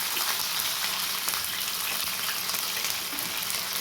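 Steady, dense sizzling of fish frying in hot oil, a continuous crackle with no talking.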